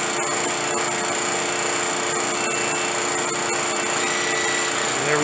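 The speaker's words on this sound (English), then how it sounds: "When the post-purge is done, you will hear the head cycle back into the home position." An M207A orbital welding head cycles back to its home position after post-purge, giving a steady, loud mechanical whirring that runs unbroken for the full length, with no voices.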